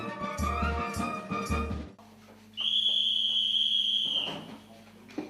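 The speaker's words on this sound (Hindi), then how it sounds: "ठीक 10 बजे की सीटी ऐलान करती है सोने के वक्त का।" A single long, piercing whistle blast signals 10 o'clock bedtime at army training, following a stretch of brief voice sounds, then fading into quiet room noise.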